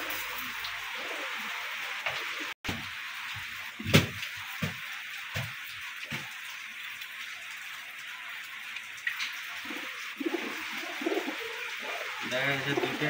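Two pigeons coo on and off, low and soft, over a light pattering background, while people talk nearby.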